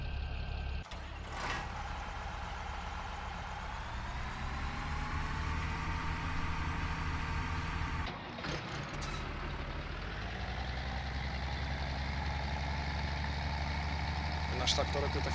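A tractor engine in Farming Simulator 17 drones steadily with a low, even hum, its pitch shifting slightly as it moves, with a couple of brief clunks and a voice talking over it.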